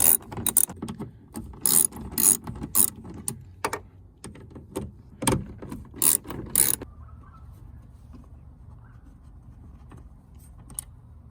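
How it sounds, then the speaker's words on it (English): An 8mm socket on a ratchet loosens bolts on a Nissan Xterra, giving repeated bursts of sharp clicking close up, then the clicking stops and only faint background noise is left. "I'm using an 8mm now on my socket set, and we're just gonna get in here and we're gonna loosen all these guys up"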